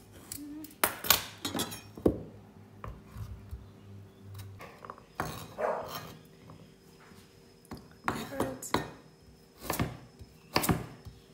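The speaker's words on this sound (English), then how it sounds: "we're just gonna cut up our vegetables while the onions are doing their thing" A knife chops vegetables on a cutting board in irregular bursts of sharp, close knocks with pauses between, some strikes ringing faintly like glass or metal, in a quiet kitchen.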